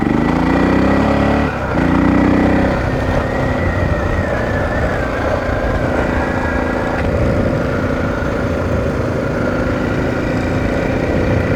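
A 2000 Honda XR600R dual-sport motorcycle rides near Foresthill, its single-cylinder engine a loud, continuous close drone with wind rush, the pitch rising briefly early on before settling into a steady cruise.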